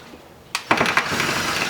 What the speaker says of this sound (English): We're going to try it with the drill first.